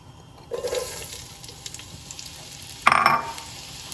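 Onion, carrots and celery hitting hot oil in a pan for a bolognese sauce, two sudden bursts of loud sizzling, the second stronger, fading to a low steady frying hiss.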